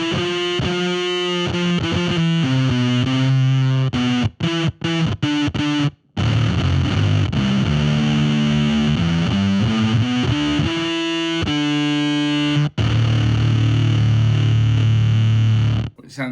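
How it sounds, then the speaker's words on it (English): Bass guitar played through a gated fuzz distortion pedal, loud and heavily saturated, with sustained buzzy notes and riffs that cut off abruptly to silence between phrases as the gate closes. "So if I want to, I can turn the gate on the little fella. got a gated fuzz."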